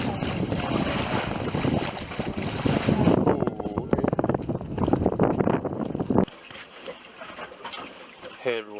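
Strong wind buffets a moving boat on open water near Kenora, roaring loudly and gustily across the microphone before dropping to a calmer whoosh with faint water sounds.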